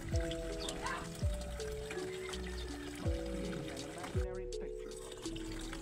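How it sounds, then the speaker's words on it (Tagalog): Small splashes and trickles of water added to a container holding crayfish being acclimated, brief pours and drips heard under a person talking, with tones and chimes sounding in the background. "So every 5 minutes, nilagyan ko ng konting tubig."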